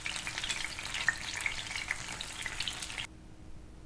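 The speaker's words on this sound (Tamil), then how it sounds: "இந்த சைடை நம்ம லோ ஃப்ளேம்லேயே இதை ஃப்ரை பண்ணிக்கலாம்." Okra fry for a crunchy vendakkai 65 sizzles steadily in oil on a low flame, a dense crackling hiss running for about three seconds before cutting off to quiet.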